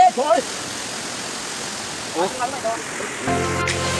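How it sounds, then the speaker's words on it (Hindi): A waterfall at Falyati in Bageshwar, Uttarakhand, gives a steady broadband rush, moderately loud and continuous, with brief voices and other short sounds rising over it now and then. "अब हम नीचे वाले झरने में जा रहे हैं।"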